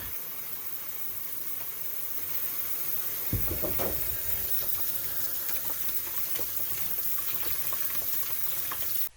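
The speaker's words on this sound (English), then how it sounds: "Cold water." A cold-water tap runs steadily with a soft hiss, the flow thickening a few seconds in and continuing evenly until an abrupt stop.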